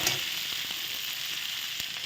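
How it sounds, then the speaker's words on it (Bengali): A spice paste with green chillies fries in a pan, giving a steady, close hiss of sizzling oil with faint scraping stirs. "এই যে ভাজা হয়ে গেল মশলাটা"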